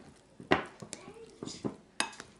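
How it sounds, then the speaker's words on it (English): A spoon clinks and scrapes against a bowl while stirring an okra mixture, several sharp, close knocks scattered between quieter rubbing, with a voice speaking lightly over it. "I'm going to stir this up very well."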